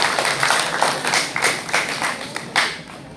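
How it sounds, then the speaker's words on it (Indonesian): An audience of teachers at a character-building gathering at an Islamic foundation gives brisk, scattered applause, individual claps standing out near and fairly loud for a few seconds. "Kita beri tepuk tangan."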